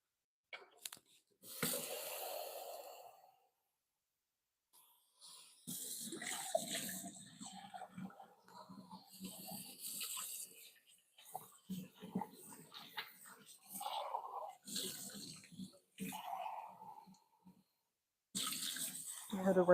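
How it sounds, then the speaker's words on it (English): A kitchen faucet runs in short bursts while a measuring cup is rinsed under it, water splashing between quiet stretches, with a voice speaking softly near the start. "I had to rinse out the measuring cup real fast."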